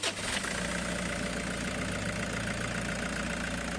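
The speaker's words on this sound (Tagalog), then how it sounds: "pwede mo na ngayon start itong makina" A Toyota Grandia Hiace diesel engine fires up after fuel hose work and bleeding, catching quickly and settling into a steady, rough, knocking idle, close and loud.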